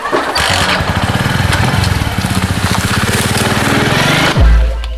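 An old motorcycle engine, kick-started, sputters into a rapid, uneven putter close by, then a sharp thump near the end cuts it short.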